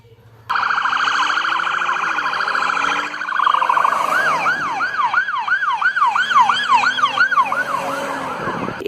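Toy police super car siren, an electronic steady tone that switches to a rapid repeating wail, loud and close, running continuously after a sudden start.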